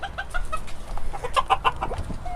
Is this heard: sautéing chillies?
no